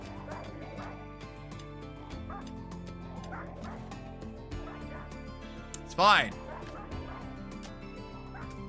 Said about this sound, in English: Four angry dogs. Four very angry dogs.